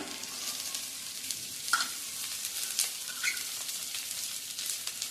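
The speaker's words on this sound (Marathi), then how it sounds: "हे सगळं फोडणीत घालून घ्यायचंय आणि छान परतायचंय त्याचा रंग बदलेपर्यंत" Grated carrot and cabbage sauté in a hot mustard-seed tempering, giving a steady hiss of frying with a few light scrapes of a spoon stirring through, close and moderately quiet, with no voices.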